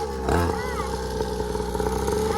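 A motocross motorcycle's engine drones steadily with the throttle opened, a rough buzzing hum that swells briefly as a voice calls out over it.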